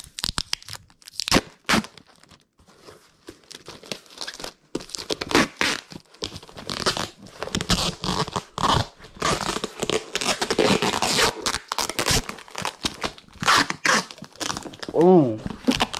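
Packing tape is pulled from the roll and torn in repeated loud, close ripping bursts with crinkling while packages are taped up, and people talk throughout.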